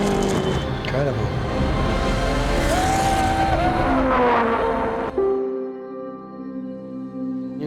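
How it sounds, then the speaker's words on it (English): A Lotus 25 Climax Formula One race car screams past at speed, its high engine note rising and falling with shifts before cutting away near the end, while a commentator talks over it throughout. "Jim Clark's Lotus Climax, number 4, out in front"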